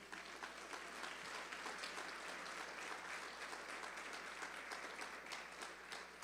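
Congregation applauding at a church service during a sermon, a steady dense wash of clapping that holds at an even level throughout without voices on top.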